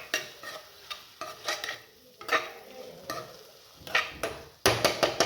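Salted onions frying in a pan for chicken gravy, a spoon scraping and stirring in repeated bursts over a soft, steady sizzle, close and clear with no talk.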